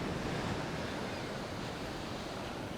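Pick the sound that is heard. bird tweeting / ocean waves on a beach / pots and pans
ocean waves on a beach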